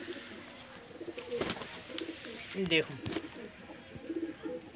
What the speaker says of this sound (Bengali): এটা হচ্ছে মেল পায়রা